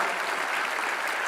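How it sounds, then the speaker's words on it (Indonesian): Audience applause during a presidential speech in Indonesia, a steady wash of many hands clapping, dense and even for the whole moment with no talk over it. "Mari kita tepuk tangan untuk Christina dan semua anak Indonesia"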